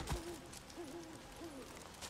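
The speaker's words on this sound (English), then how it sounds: "Shut up, owl!" An owl hoots in the forest of the video game Days Gone, three slow, wavering calls spaced evenly apart over a quiet ambient background.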